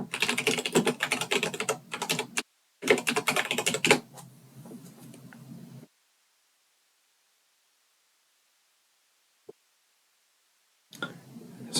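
Fast typing on a computer keyboard, entering a sudo apt install command, in close dense bursts with a short pause, then silence before a few more keystrokes at the end.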